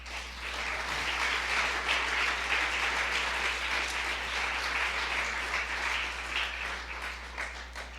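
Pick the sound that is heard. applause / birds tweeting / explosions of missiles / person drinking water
applause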